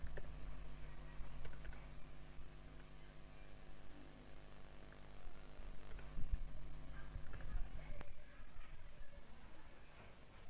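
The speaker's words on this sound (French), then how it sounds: "Je tape s'authentifier" Steady typing on a computer keyboard during a software session, a run of quiet close key clicks over a constant low background hum, with no one speaking.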